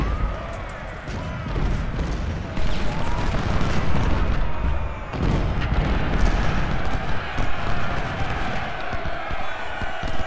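Cannon blasts and massed musket fire in the Civil War strategy game Ultimate General, Second Bull Run battle: a dense, rumbling battlefield din of repeated booms and crackling volleys, loud and continuous with swelling bursts.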